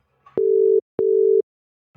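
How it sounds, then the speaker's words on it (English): A telephone ringback tone sounds on a call: two loud, even electronic beeps of about half a second each, separated by a short silence, with nothing else behind them. "It's ringing now."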